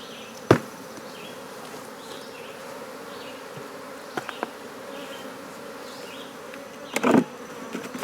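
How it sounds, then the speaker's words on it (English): Bees hum faintly and steadily inside a hive box during a nuc transfer, with a few sharp knocks and thuds from handling the box breaking through the quiet buzz. "There's a few bees here in the box."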